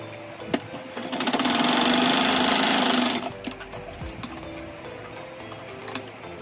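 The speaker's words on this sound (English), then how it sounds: "So then I go ahead and sew this place." A sewing machine runs in one steady, loud burst of fast stitching on Ankara fabric shorts with a side pocket, lasting about three seconds before it stops. Brief clicks and handling noises follow.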